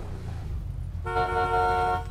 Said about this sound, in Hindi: हॉर्न बजा के भी देख लिया,